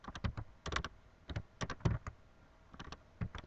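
Keys clatter on a computer keyboard while a Java programming lesson is entered, coming in short uneven bursts of close, crisp clicks separated by brief pauses.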